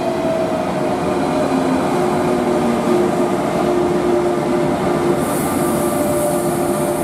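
A Railjet train passes through a station in Kufstein, with a loud continuous rumble and rolling wheel noise and a faint steady whine from the wheels, close and unbroken throughout.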